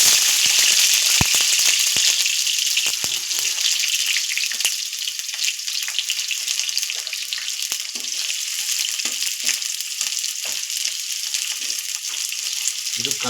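Chopped onions frying in a spoonful of oil in a pan, a steady loud hiss and crackle that runs throughout with scattered pops and stirring clicks, close up.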